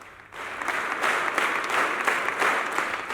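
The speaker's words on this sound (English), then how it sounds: "Participants engaged in a spirited clapping at varying intensities throughout the duration of the record-breaking" A huge church congregation at a Phaneroo Ministries gathering claps in a record-breaking marathon of applause, a dense, steady roar of hands that swells after a brief quieter start and then holds at full strength.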